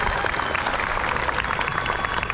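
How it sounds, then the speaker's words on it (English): Applause from a school promotion ceremony audience honoring the custodial team, a steady dense wash of clapping throughout, moderately loud with no clear talk. "Let's give a round of applause to them."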